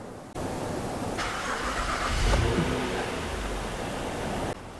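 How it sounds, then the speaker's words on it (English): A car engine cranks and turns over, rising briefly into a rough mechanical roar before settling, heard close and fairly loud with no talking. "Let me turn the car on. Let's start it."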